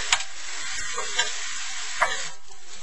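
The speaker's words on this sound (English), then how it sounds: "All we really want to do is just brown this with the onions." Ground meat browns with onions in a hot pan for stuffed peppers, a steady bright sizzle broken by a few sharp scrapes and clacks of a utensil stirring, close and fairly loud.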